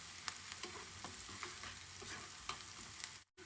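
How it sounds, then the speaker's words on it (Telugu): Onions fry golden with a pinch of turmeric in a pan for gobi masala curry, a steady, faint sizzle broken by soft stirring taps, with a sudden brief cutout near the end and no voices. "చూడండి, ఆనియన్స్ మంచిగా వేగిపోయినాయి."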